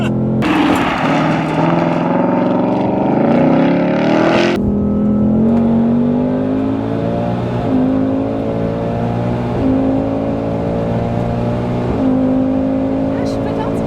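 A 2025 Ford Mustang revs and accelerates hard while spinning its tires, its loud engine note rising and falling in repeated surges, then settling into a steady high roar.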